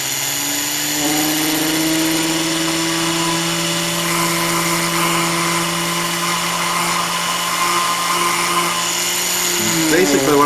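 A small grinding rig deburrs a newly cut brass contrate wheel for a carriage clock, giving a steady, loud motor whine with a constant hum throughout, rising slightly near the end.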